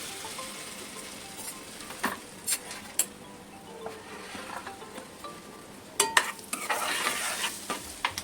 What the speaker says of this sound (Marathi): मी थोडंसं फोडणीला जिरं टाकते इथे